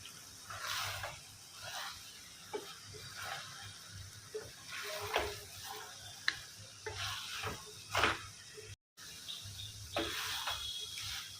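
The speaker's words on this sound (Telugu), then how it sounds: "టమాటో కొబ్బరి పేస్ట్ కలుపుకున్నాం కదా, ఇట్లాగే వేగనివ్వాలి మూత పెట్టకుండా" Tomato coconut paste for chicken kurma fries uncovered in a pan, a soft sizzle under repeated stirring and scraping strokes, fairly quiet with one brief dropout.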